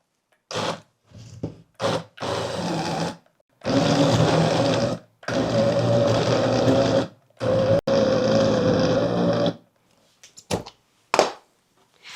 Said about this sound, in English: Put the lid on. And we are going to blend it into a thinner pulp.